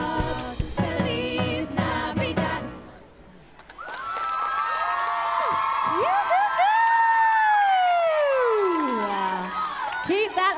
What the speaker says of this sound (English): applause coming